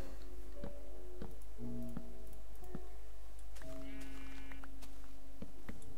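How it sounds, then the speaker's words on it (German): Sheep bleats from the Minecraft video game come up as short tonal calls amid game ticking and faint background hum, with no talk over them. "Außerdem ist da vorne ein Schaf."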